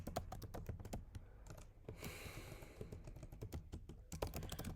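Rapid computer keyboard typing while code is entered, with dense irregular key clicks in quick bursts, close and steady throughout with no talking.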